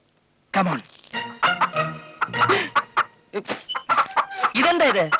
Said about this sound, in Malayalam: ഇതെന്താ ഇത്? കോഴി.